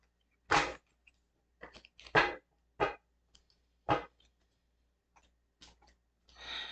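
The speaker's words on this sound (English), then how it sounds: "I'm going to shuffle your cards" Tarot cards being shuffled and handled during a pick-a-card reading give a sparse series of sharp, close papery snaps and flicks, about eight distinct bursts separated by quiet gaps.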